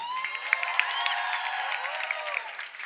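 Nightclub audience applauding a drag performer on stage, a fairly faint crowd clapping with scattered whoops, heard through a thin, band-limited recording alongside a busy mix of voices.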